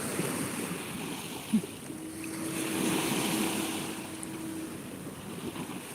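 Sea waves at Kuşadası wash in a low, steady surf under gusts of wind buffeting the microphone, with a faint boat hum in the distance and no talking.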